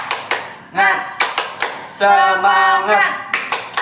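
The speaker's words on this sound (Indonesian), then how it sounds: "Tepuk semangat." A classroom group stands and performs a rhythmic spirit clap, sharp claps landing in a steady pattern, with voices chanting together in the middle.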